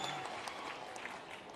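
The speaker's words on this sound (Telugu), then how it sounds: "గట్టిగా చప్పట్లు కొట్టి అభినందించండి" A crowd claps at a public gathering on the Chief Minister's Jammalamadugu tour. The applause is steady, dense and fairly faint, as if heard from a distance.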